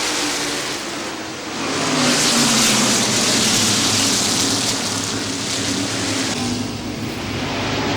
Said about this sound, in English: As we see the cars come up out of the 2nd turn and go down the back straightaway, Jeff Fuller's already opened up a 3-car len